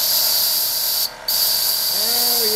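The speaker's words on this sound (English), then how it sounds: "I guess I need to run it up. Bleed off some steam." Steam hisses loudly and steadily from a Wilesco D22 toy steam engine, broken by one brief pause before the rushing hiss resumes, and a faint rising tonal sound comes in near the end.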